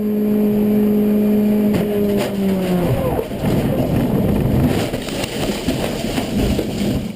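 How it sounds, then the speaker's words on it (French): Onboard a Renault Clio 3 race car, number 86, at speed on a rally stage, loud engine note dropping through gear changes, then rough roaring and rattling over the road surface; a voice talks over it. "On embarque avec Jacques Morlet dans la Clio 3 numéro 86"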